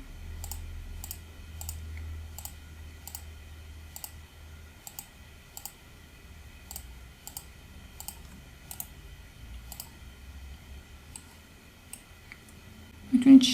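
A computer mouse clicks in a steady, evenly spaced pattern while drafting a basic bodice block in pattern software, crisp close clicks roughly every half second over a low background hum.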